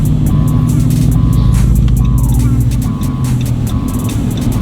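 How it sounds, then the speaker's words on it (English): Dodge Ram 1500 pickup truck driving, heard from inside: a loud, steady low engine rumble with a brief rise in revs partway through, plus intermittent short chimes or tones and some rattling. No one speaks. "Sounds like a truck. It sounds like a truck."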